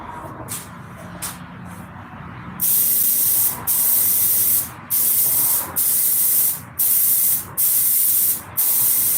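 Spray gun laying down a final coat of pearl paint on a vehicle during a refinish, loud hissing bursts in regular passes of about a second each with short gaps between them, no talk.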